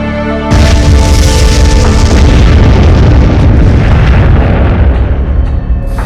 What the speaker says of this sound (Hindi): पृथ्वी पर भयंकर ज्वालामुखी विस्फोटों का दौर शुरू हो गया।